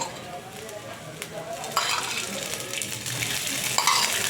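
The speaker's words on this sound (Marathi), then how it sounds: "थोडंसं तेल टाकूया याला भाजण्याकरता" Pigeon pea seeds roasting in a little oil on a hot griddle, a steady close sizzle with stirring scrapes that grows a bit louder partway through, no talk.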